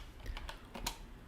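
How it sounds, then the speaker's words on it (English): Quiet computer keyboard typing of a short message, a handful of light irregular key taps spaced over a second or so, faint and close with no speech. "Let me just type to the bloke"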